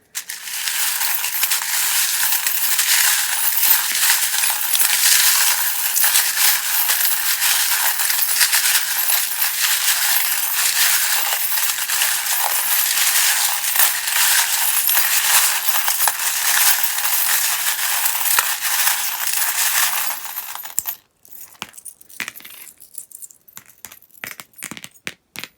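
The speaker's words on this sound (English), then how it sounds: "if you don't like the sound of the charms being shuffled" Tarot cards fitted with metal charms are shuffled in a steady, loud clinking rattle for about twenty seconds, then stop, leaving a few scattered soft clicks and handling noises.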